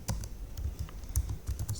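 Quick, uneven clicks of keys on a computer keyboard while a stop command is typed into an Arduino robot driver simulation, close and moderately quiet, with soft low thumps under the taps.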